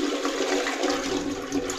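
A toilet flushes in a hotel room in a small town in Argentina, a loud, close, continuous rush of water, alone without talk.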